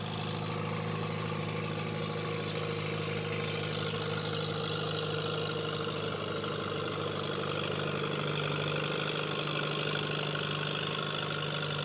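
A four-cylinder Massey tractor engine idles steadily at a county fair tractor pull, giving a constant, even mechanical rumble close to the microphone with no talking.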